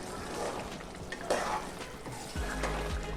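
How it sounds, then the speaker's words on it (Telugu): Chole masala stirred in a pan after kasuri methi and cream are added, giving soft scraping and gentle sizzling at low volume, with a low rumble near the end. "ఇప్పుడు మనం మిక్స్ చేసుకుందాం."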